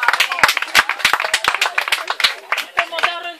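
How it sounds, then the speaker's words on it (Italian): A small outdoor group claps during a walk among vegetable gardens in Castelnovo del Friuli, with brisk, uneven hand claps mixed with people talking. "Possiamo fare un applauso a questi"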